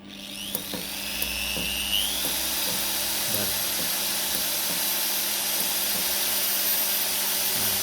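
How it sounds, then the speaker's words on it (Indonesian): A high-pitched electric drill whirs steadily and loudly for several seconds, powered by a hybrid solar inverter, with a few clicks and taps over a low hum. "Coba bornya dinyalakan."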